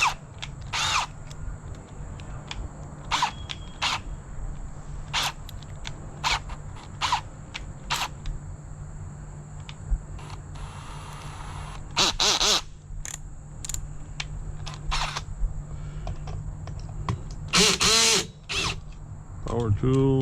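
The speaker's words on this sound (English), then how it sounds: "Power tools are always fun to use." A power drill used while fixing an Ofna LX2 RC car outdoors, firing in repeated short whirring bursts separated by pauses, with a couple of longer runs near the end and a steady background hum.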